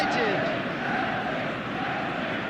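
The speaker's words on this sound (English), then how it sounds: "The stadium is full of noise and energy." Stadium crowd in a football video game roaring steadily, a dense wall of cheering and chanting at constant loudness with no break, on match day.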